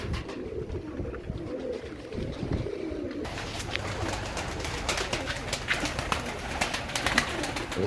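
Pigeons coo softly and repeatedly at feeding time, with low throaty calls overlapping at moderate distance, joined by faint fluttering and shuffling sounds.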